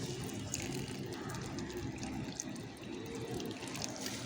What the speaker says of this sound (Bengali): সার দেওয়ার পর পর্যাপ্ত পরিমাণে জল দিয়ে দেবো